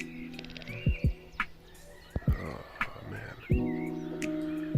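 Birds call outdoors, a mix of chirps, whistles and caws scattered over a steady background, some close and sharp, others more distant.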